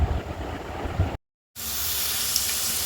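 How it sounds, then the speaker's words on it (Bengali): Potatoes fry in a pan until red, giving a steady broadband sizzle and hiss that cuts out briefly, then returns slightly brighter and continues unbroken. "লাল লাল করে আলুগুলোকে ভেজে নিচ্ছি"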